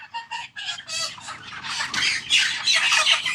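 Broiler chickens on a bird-flu-affected farm squawk and cluck continuously at close range, many birds calling over one another in a dense, rising chorus with no talk.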